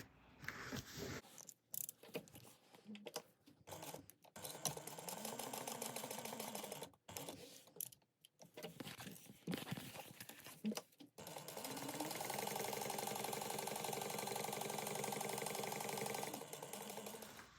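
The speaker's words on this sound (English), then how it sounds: "You're going to sew across here at 1/8 of an inch and then baste along the side." A sewing machine stitches and bastes card slots in bursts, its rapid mechanical whir starting and stopping several times with brief pauses between runs, close and fairly loud.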